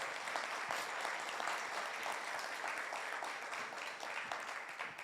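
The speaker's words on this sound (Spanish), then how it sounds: "Dele palmas a este Dios bueno" A church congregation applauds during a sermon, steady dense clapping from many hands that goes on without a break, moderately distant.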